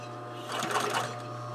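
A sewing machine understitches a fabric collar, its needle motor whirring quietly in a short run that swells slightly in the middle against a faint background hum.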